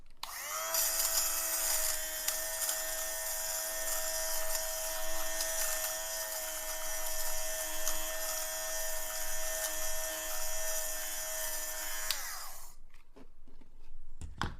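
A TEFAL JB1011E0 lint remover shaves pilling from a knit hat, a steady high-pitched motor whine that runs loud and unbroken for about twelve seconds before switching off, leaving a few faint handling clicks.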